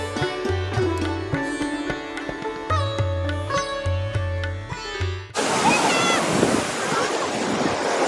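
Music plays first, then breaking sea waves at Tiruchendur beach take over, a loud, continuous roaring surf rush mixed with blustery wind noise on the microphone.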